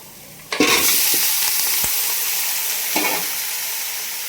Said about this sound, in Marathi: आता याच्यामध्ये आपण टाकायचं आहे मटण.